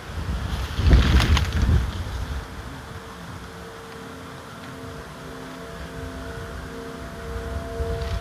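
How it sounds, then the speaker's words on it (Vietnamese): Strong outdoor wind while a kite is flown, heard as a steady broadband rush with a louder gust early on, then a continuous blustery roar and faint tonal hum underneath, no talking. "Bây giờ gió ở dưới nhỏ nhưng mà trên lại to nhá"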